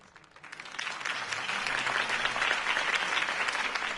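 Applause from a gathered crowd follows a mayoral campaign speech, rising within half a second into loud, continuous clapping that holds steady throughout.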